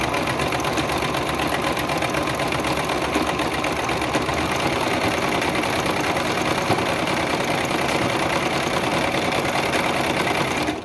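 Sewing machine stitching a zigzag seam, a fast steady mechanical whir and rattle running continuously and close, with no talking over it.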